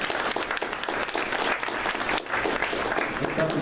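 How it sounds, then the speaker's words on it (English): An audience at a company tech talk gives a sustained round of applause, a dense and continuous wash of clapping with faint murmurs underneath. "One more round of applause for Bryce"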